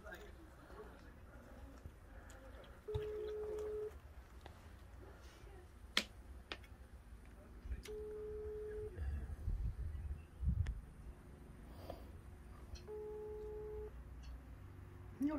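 A ringback tone beeps through a phone on speakerphone at regular intervals, each tone about a second long, with soft background noise and occasional clicks between, as the call is rejected.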